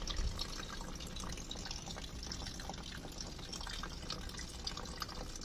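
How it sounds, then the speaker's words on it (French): Water runs steadily into a jar being rinsed, a continuous close splashing and trickling flow with scattered drips, quiet and alone without talk. "Je vais passer de l'eau dedans et tout."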